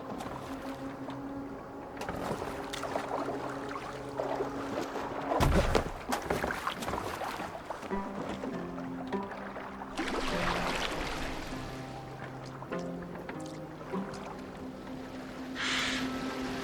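A wooden longship glides across water in Assassin's Creed Valhalla, with soft sloshing and creaking mixed with low droning music tones and a brief louder splash partway through.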